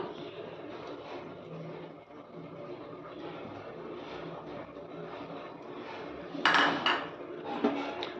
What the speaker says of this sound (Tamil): புதினா சேர்த்துட்டு நல்லா கலந்து விட்டுக்கோங்க